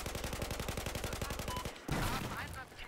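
Rapid automatic gunfire from the Battlefield 4 multiplayer game, loud and close, about twenty evenly spaced shots fired in a steady burst that stops abruptly and gives way to a noisy wash of game sounds.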